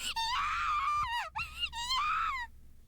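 Rika from the visual novel game Subarashiki Hibi screams in a mature voice: a loud, sustained wailing cry that breaks off briefly in the middle, resumes, then cuts out, with no other talk.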